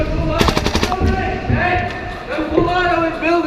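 Replica Kriss Vector firing in full auto, a fast run of close, sharp shots in a quick burst over a clattering background, with voices talking around it.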